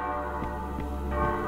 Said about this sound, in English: There's the ringing bell.